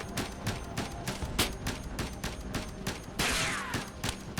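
Rapid gunfire in the video game Ghost Recon Advanced Warfighter 2. Dense, loud bursts of shots repeat in quick rhythm, then a sharper, brighter blast near the end, with no voices.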